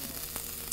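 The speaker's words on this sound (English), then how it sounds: "you're listening for that sizzle. That's the sizzle that you want" Onions frying in a hot pan give off a soft, steady crackling sizzle, quiet and close, continuing without a break through the short span.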